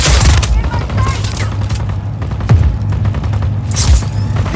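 Gunfire in Just Cause 4 sounds as loud irregular shots and bursts, some close and sharp, mixed with mechanical clanks and low rumble, with a fresh volley near the end.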